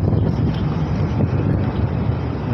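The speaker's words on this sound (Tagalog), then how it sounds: "Sarap ng hangin dito, lamig oh." Steady wind buffeting a microphone on a condo rooftop, a constant low rumbling roar with no pauses and no voices.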